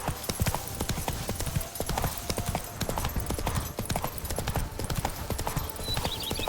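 Rapid clip-clop of horse hooves in The Witcher 3: Wild Hunt, close and continuous, with a busy rhythmic patter throughout and a faint whinny.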